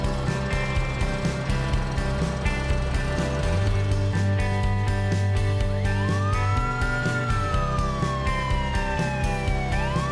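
An ambulance siren wails over a steady droning background. Its pitch sweeps up and down in long, smooth glides.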